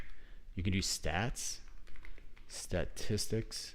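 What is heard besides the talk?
mechanical keyboard typing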